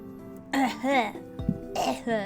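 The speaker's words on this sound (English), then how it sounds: "That's how I cough, by the way." Several harsh coughs and throat-clearing bursts come in quick succession, close and loud, with a quiet background hum between them.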